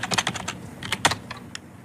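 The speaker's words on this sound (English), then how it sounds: "typing his name up that he's given me on this computer" Quick bursts of typing on a computer keyboard during a police check, with several rapid keystrokes, a pause, then a few more taps, close and clear with no talk.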